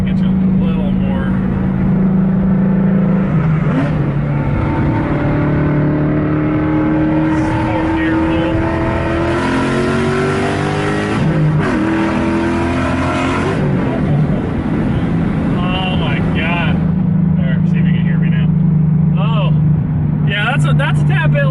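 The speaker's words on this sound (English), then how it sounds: "Number 1 for me is the exhaust sound" A Ford Mustang's exhaust rumbles loudly from inside the cabin, with the windows down. A low idle swells into rising revs and settles back to a raw burble, while someone speaks quietly at times.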